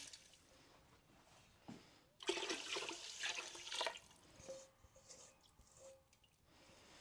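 Water pours into a pot of rice in a home kitchen, a faint splashing that swells to a louder rush midway and then trickles off, heard alone.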